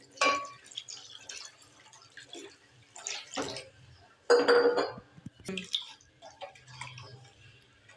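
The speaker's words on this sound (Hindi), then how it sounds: "पानी डालती हूँ और चम्मच चलाती जाती हूँ" A spoon clinks and scrapes inside a bowl while water is stirred into yogurt and gram flour for kadhi batter, producing a few sharp metallic taps and wet swishes separated by quiet pauses.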